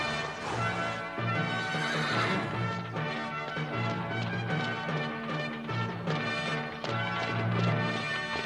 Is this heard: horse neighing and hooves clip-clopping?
yes